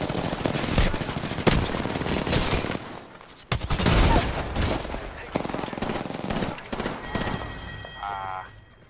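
Rapid bursts of Alternator submachine gun fire in Apex Legends, loud and close, in several rattling strings separated by brief pauses, with game effects chiming near the end.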